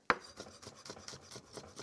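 A knife chops peeled garlic on a board, a sharp first cut followed by a quick, even run of about seven soft, rhythmic chops, close and fairly quiet.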